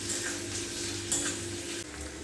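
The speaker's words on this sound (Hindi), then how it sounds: "बस अब प्याज जितना मैं चाहती थी उतना सिक गई है" Onions fry in a pan with a steady close sizzle, broken by a couple of brief stirring scrapes against the metal, and no one speaking.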